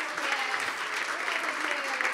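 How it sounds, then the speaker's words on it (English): A crowd claps steadily in a dense wash of applause, with a few voices faintly mixed in. "Big round of applause"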